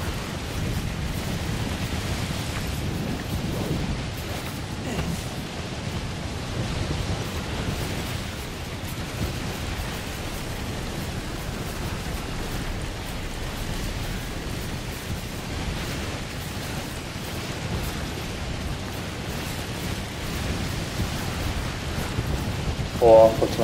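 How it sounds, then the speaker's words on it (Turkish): A storm in Death Stranding roars as a steady, dense wash of wind and rain that stays loud and unbroken throughout, with no distinct thunderclap standing out. "Oha, fırtına geldi."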